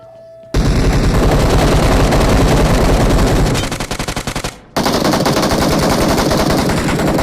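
Rapid automatic gunfire in the BGMI mobile battle game, two long loud bursts of dense shots split by a short pause, close and dominating the mix.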